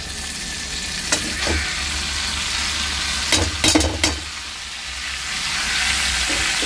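Boiled banana flower added to half-cooked fried potatoes in a pan, a steady sizzle with several sharp scraping stirs and knocks, close by and without talk.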